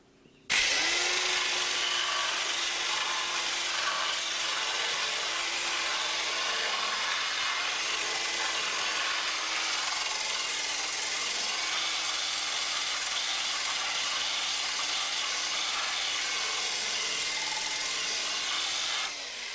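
A grinder shapes the wooden gunwales of a duck boat with a loud, continuous high whine that holds steady, close by, for nearly twenty seconds.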